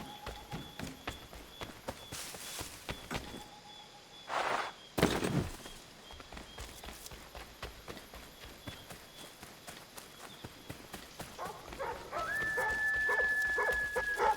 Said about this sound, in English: That dog is barking at cats.